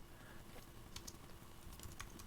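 Quiet typing on a computer keyboard, a few soft scattered key clicks over faint room hum, with no talking.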